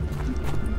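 Rapid, steady thudding footsteps of a pig running through the STALKER GAMMA game world, continuous and moderately loud over a low rumbling background for a brief moment.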